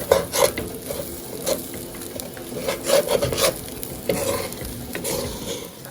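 Rice toasts in a pot with onions, garlic, thyme and green seasoning, stirred with a utensil that scrapes and rasps in irregular strokes over a soft, steady sizzle.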